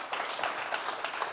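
Brief light applause from a small group at the end of a talk, quick scattered clapping at a moderate level with no voices over it.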